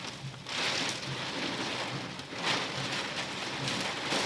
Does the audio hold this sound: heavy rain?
yes